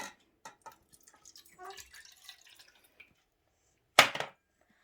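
Water is poured onto a spoonful of tomato paste to start a sauce, a short, sharp splash after a few soft kitchen clinks and quiet handling noises.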